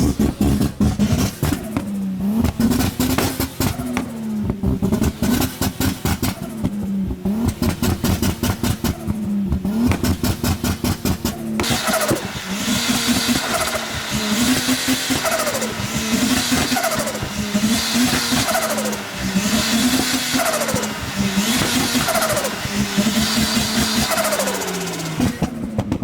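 Turbocharged Lexus IS200 cars rev hard and accelerate away from a car meet, loud rising and falling engine notes with repeated gear-change sweeps, one car following another close by.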